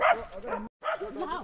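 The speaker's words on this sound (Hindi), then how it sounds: "कुत्ते इतने ज्यादा आ रखे ना भौंक रहे कहीं काट ना दे" Several Bhutia dogs bark and yip in a Himalayan mountain village, two quick close bursts split by a short gap, loud and agitated.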